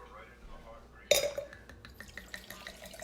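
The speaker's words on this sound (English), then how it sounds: "Actually pour a little in the glass." Wine poured into a glass in a kitchen: a bright clink of glass, then a soft trickle with small splashes and light clatter, fairly close and quiet.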